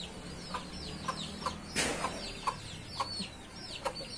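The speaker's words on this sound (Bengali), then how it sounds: "মুরগির খামারের মতো তৈরি করছে। এগুলো সব দেশি মুরগি।" Native chickens on a small rooftop farm cluck in short, regularly repeated calls at close range, with one louder burst midway and a faint background hum.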